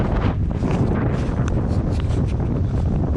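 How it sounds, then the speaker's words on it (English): Strong mountain wind buffets the microphone in heavy, continuous rumbling gusts, loud and close, with no other sounds. "it's really windy, and the wind comes from the mountain."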